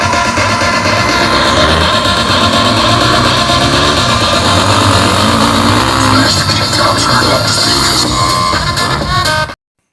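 Foreign stunt riders' motorcycle engines roar and rev continuously during an aerial acrobatics show in Raipur, Chhattisgarh, a loud sustained drone with shifting pitch and crowd noise mixed in, cutting off abruptly at the end.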